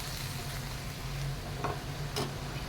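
Vegetables stir-fried with oyster sauce in a pan, a soft, continuous sizzle with a couple of brief scraping clicks partway through.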